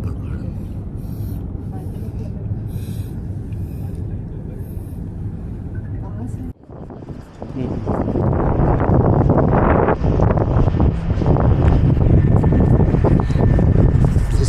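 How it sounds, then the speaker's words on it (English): Heavy wind buffets the microphone on a cable car on Lantau, Hong Kong, in a loud, continuous roar that grows stronger partway through, with voices faintly underneath. "It's very windy."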